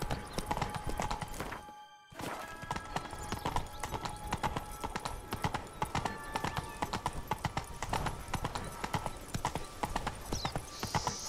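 Roach, a horse in the video game The Witcher 3: Wild Hunt, gallops with steady, rapid hoofbeats clopping close and loud under a busy game soundscape, with a brief near-silent gap early on.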